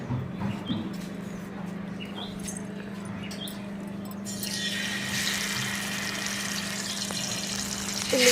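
Koduva fish (barramundi) frying on a hot dosa griddle, a steady sizzle with a low hum that swells into a brighter, louder hiss after a few seconds, with no talking.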